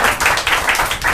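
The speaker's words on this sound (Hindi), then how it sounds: "उनके लिए भी एक जोरदार ताली हो जाए।" Loud, continuous applause from an audience during a Sunday church service, with rapid overlapping hand claps swelling in bursts for just over a second.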